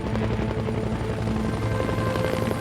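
A turbine helicopter rotor keeps up a loud, steady drone with a pulsing beat and a whining hum underneath, with nothing else audible.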